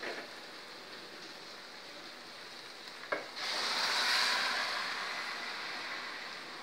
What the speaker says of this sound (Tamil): இதில் வந்து கொதிக்க வச்சு தண்ணி ஊற்றிடலாம்